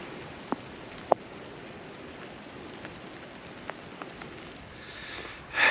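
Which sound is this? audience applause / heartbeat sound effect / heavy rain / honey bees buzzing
heavy rain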